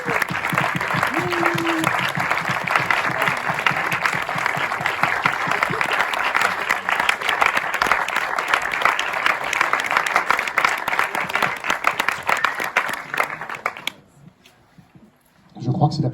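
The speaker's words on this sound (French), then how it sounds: "Encore un petit coup d'applaudissements." A packed audience claps hard at the Pathé Palace premiere Q&A for Mickey 17 with Bong Joon Ho, loud continuous applause for about fourteen seconds before it drops away abruptly into near silence, then resumes.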